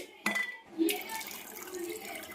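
Water poured into a pot or pressure cooker holding food to be cooked, a brief close splashing pour following a sharp knock, running steadily for about two seconds with no talk.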